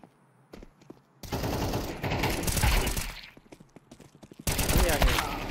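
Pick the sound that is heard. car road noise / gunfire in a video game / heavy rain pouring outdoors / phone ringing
gunfire in a video game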